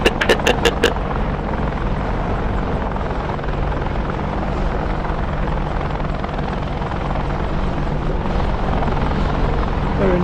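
Chinook helicopter hovering in the DCS flight simulator game, a loud steady rotor and turbine drone holding throughout, with a few sharp clicks at the start and faint voices now and then beneath it.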